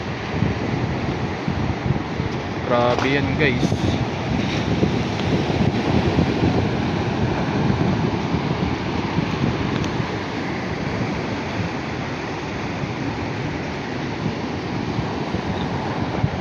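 Strong wind blowing off the China Sea buffets the microphone while sea waves surge continuously on a rocky shore, a loud, steady roar with a short burst of speech early on.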